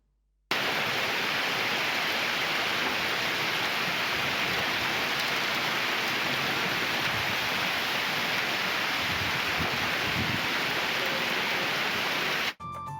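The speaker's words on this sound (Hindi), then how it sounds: "KPK के कई अजला में कहीं तेज और कहीं हल्की बारिश का सिलसिला जारी है" Steady rain falls in a dense, even hiss that holds at constant loudness for about twelve seconds, with no voices, then cuts off abruptly.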